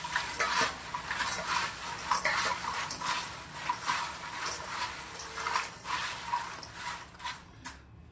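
Raw banana wafers being tossed and mixed with spices in a metal bowl, a close run of light rustling scrapes and clinks in an uneven rhythm, with soft background noise throughout.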